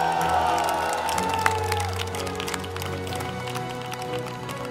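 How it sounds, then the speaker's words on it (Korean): A crowd of volunteer firefighters at a safety culture campaign event claps and cheers in a dense, steady wash that tapers slightly toward the end, with a voice faintly over it. "한강 넘어 청와대까지 들리도록 크게 박수와 함성!"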